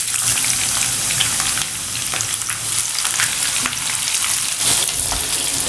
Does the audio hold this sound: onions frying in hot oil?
yes